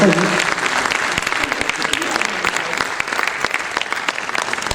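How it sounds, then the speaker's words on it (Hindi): Sustained applause from a ceremony audience honouring the helpers on stage at an awards event, steady dense clapping throughout with a few sharper claps standing out. "एक बार इस मंच के लिए, इन सहयोगियों के लिए तालियों के साथ अभिनंदन।"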